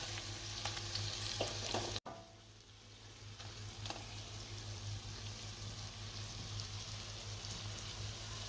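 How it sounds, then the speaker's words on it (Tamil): Black pepper chicken frying and simmering in a pan in Dindigul thalappakatti style, a continuous soft sizzle and crackle with a brief stir or scrape near the start, steady and quiet with no talk. "நல்லா பரட்டி விட்டுட்டு ஒரு 5 நிமிஷம் சிம்மில் போட்டுருங்க அடுப்பு."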